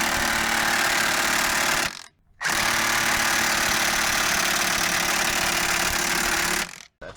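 Strut bolt on a Hyundai Santa Fe being driven out with a 17 mm socket on a 3-inch extension, loud rattling power-tool bursts with two short pauses, close by.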